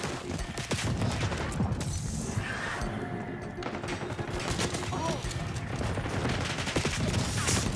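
Rapid bursts of video game gunfire crackle continuously over a rumbling game soundscape, with someone talking underneath.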